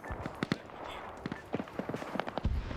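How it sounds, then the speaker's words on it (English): Artillery shells landing across a video game battlefield strike a checkpoint and trench line, a series of sharp distant thuds and cracks scattered irregularly, with a heavier close impact near the end. "I can hear the artillery shells landing."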